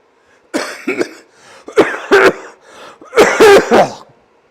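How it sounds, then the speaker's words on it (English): Close, loud coughing in three harsh clusters with short pauses between them, each burst rough and throaty, from someone riding an indoor cycling trainer; no talk. "I'm still coughing, but I feel all right."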